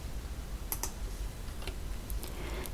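Two quick keyboard presses of a Ctrl+T shortcut in Photoshop land close together, with a few lighter scattered clicks afterwards, all under a steady low hum.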